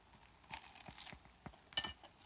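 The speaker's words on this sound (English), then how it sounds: "I love the crunch of the panko" Panko-crusted chicken tenders with blackened seasoning are bitten and chewed, giving a handful of quiet, crisp crunching bursts spaced irregularly, with the loudest crunches near the end.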